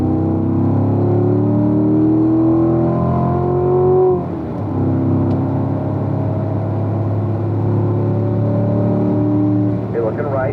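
A car powers out of a corner, its engine note holding a strong steady drone with a rising, shifting tone, close and loud inside the cabin, with talk over it.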